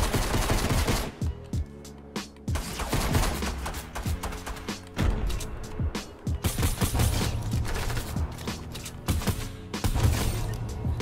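Rapid pistol gunfire in Fortnite: dense bursts of sharp shots in quick succession, loud and close, broken by short pauses, with game effects mixed in.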